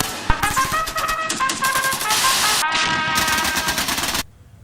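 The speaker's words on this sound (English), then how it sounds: "We all know that guns are loud." Rapid bursts of automatic gunfire from a loud firearm ring out close and sharp, steady volleys running for about four seconds before cutting off abruptly into quiet.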